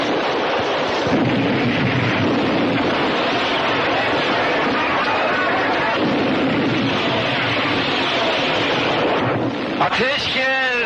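Gunfire and explosions rumble through a 1970 war film battle scene, a dense continuous roar of shots and blasts with shouted voices over it, loud and sustained the whole time.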